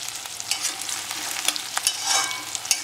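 Capsicum and onion frying in a pan, a soft sizzle under quick scraping strokes of a spatula, close and with no talking.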